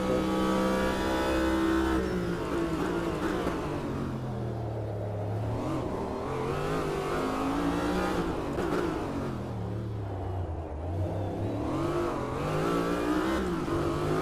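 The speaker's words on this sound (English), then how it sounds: "Myself piloting the Corvette Group C." A Corvette Group C race car in a racing video game at Long Beach roars steadily, its engine note rising and falling through repeated acceleration and downshifts, loud and continuous with no talking.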